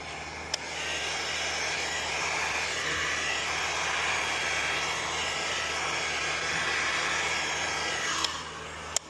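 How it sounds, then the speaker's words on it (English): A heat gun shrinking window tint film onto a curved car window gives a steady, fairly quiet airy blowing hiss, with small clicks at the start and the end. "use a heat gun, it kind of zigzags"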